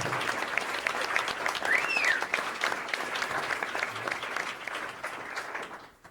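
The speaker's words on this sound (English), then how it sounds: "How about a big round of applause for all the students who have joined us here today for this discussion." A roomful of people at a school choice roundtable gives a big round of applause for the students, sustained dense clapping that holds steady and then tapers off at the end.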